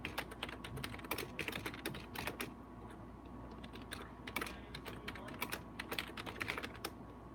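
Rapid clattering keystrokes on a computer keyboard, steady and fairly close, running continuously with irregular bursts and no talking over it.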